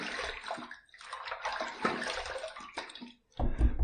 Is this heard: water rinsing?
yes